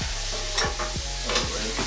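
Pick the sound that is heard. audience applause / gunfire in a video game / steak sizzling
steak sizzling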